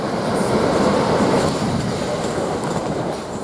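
Class 387 electric train at Three Bridges station, running from London Victoria toward Eastbourne: a steady, loud rolling rumble of wheels on rail, close by and continuous, with faint clicking from the track joints.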